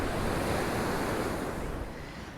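Sea waves crash and surge steadily at high tide along Blackpool seafront under a southwesterly wind, a continuous broad roar of surf with wind buffeting the microphone, easing slightly toward the end.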